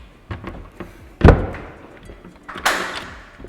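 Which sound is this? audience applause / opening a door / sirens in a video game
opening a door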